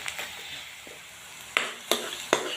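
Chopped onions frying in a pan, a soft continuous sizzle with light stirring, then three sharp scraping clinks of a spoon against the pan in quick succession.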